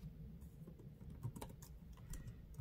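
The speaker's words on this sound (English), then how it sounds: "you're just gonna type in Google Chrome" Fingers type on a MacBook keyboard with quiet, close, rapid key clicks in an uneven patter.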